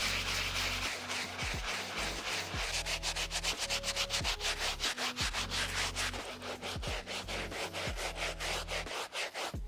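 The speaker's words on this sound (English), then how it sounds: "Next, I'm gonna move on to the insole using the medium bristle brush." Medium bristle brush scrubbing the insole of an Off-White Jordan 1 UNC sneaker, with steady, rapid back-and-forth rubbing strokes close up and a low tonal hum underneath.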